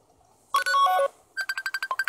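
The default Facebook Messenger call ringtone plays alone on a phone: a sustained chime phrase, then a brisk run of short, evenly spaced tonal beeps.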